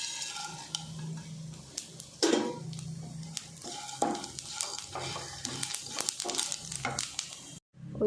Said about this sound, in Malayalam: തക്കോലം, പട്ട, നമുക്കിതെല്ലാം കൂടെ നമുക്ക് ഇതിലേക്ക് ഇട്ടെടുക്കാം.